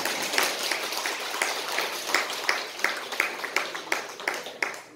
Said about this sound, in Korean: 이럴 때는 박수 한번 나와야 돼요.